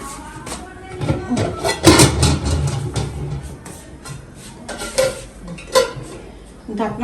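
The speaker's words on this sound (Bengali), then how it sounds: "তরকারি বসাই দিব তো সিদ্ধ হোক আগে ঢাকনাটা দিয়ে নেই" A pot of curry on the stove with metal clanks and scrapes from cookware being handled and a lid set on, several irregular knocks close by amid kitchen clatter, no clear speech.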